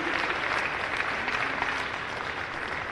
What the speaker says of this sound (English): Everyone can give a quick round of applause for Coach Elliott